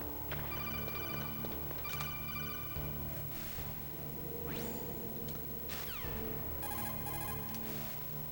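An incoming call rings in the PlayStation game Metal Gear Solid, with repeated electronic ringing tones in bursts over a steady background of game sound, and no voices.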